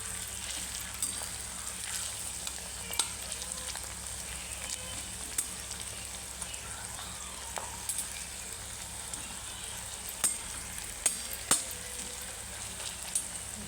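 Onion browns in a pan with a constant, close sizzle of hot oil, joined by occasional light taps and scrapes of a stirring spoon; no voices.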